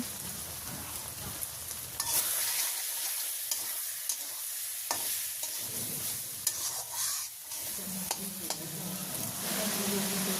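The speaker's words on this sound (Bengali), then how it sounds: "এখন মশলার সাথে আলুটা কষাই নেব।" Potatoes are stir-fried with spices and mustard oil in a pan, with a steady sizzle and occasional scraping stirs of a utensil throughout, close and continuous.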